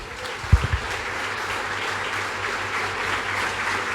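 Church congregation applauding during a Spanish-language worship service, a steady wash of clapping held at an even level for the whole stretch, with a couple of brief low thumps near the start.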